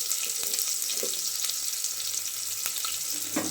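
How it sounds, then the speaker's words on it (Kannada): Chopped onion fries and sizzles in hot oil with crackling mustard seeds and curry leaves in a home tempering over a low flame, a steady close hiss with a few soft stirring knocks. "ಈರುಳ್ಳಿ ಸ್ವಲ್ಪ ಹಾಕಿ ಫ್ರೈ ಮಾಡ್ಕೊಂಡು ಸ್ಟಾರ್ಟ್ ಮಾಡೋಣ"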